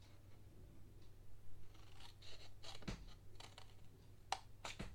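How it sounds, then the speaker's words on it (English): Pair of snips cutting through paper up to a score line while making a gift bag, a few short crisp snips scattered between soft handling rustles, close and fairly quiet. "Then with a pair of snips, you're going to snip up to the score line"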